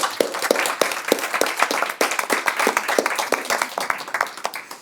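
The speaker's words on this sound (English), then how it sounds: "I want an applause for them." Audience applause at a symposium, individual hand claps distinct and rhythmic from a modest group, close and fairly loud, ebbing slightly toward the end.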